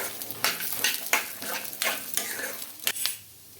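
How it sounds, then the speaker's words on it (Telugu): Cumin seeds and spices fry in hot oil for a cotton dosa, a steady close sizzle broken by several sharp scraping stirs of a spoon against the pan before it quiets at the end. "అలాగే కొద్దిగా జీలకర్ర ఇవన్నీ వేసి బాగా మంచిగా ఫ్రై చేసుకోవాలి"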